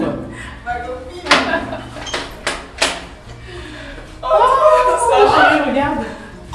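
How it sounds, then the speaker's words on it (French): A door is handled indoors in a few sharp knocks or clunks, separated by short gaps, followed by people talking and laughing nearby. "Ah, ouvre la porte."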